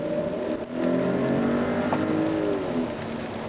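A Mercedes-Benz SUV engine revs steadily from inside the cabin, its harmonic drone rising and holding smoothly for several seconds, close and fairly loud with no talking over it.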